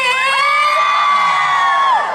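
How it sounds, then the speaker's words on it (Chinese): A concert crowd at a lotus festival opening gala screams and cheers in a loud, sustained burst of high-pitched voices, steady throughout with no talk. "那尖叫声在哪里？"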